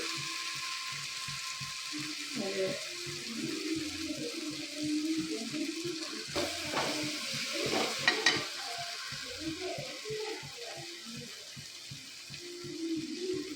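Chopped onions sizzle and fry in a pan for chicken curry, stirred steadily as spice powders go in, a close continuous crackle with scraping strokes of the spoon.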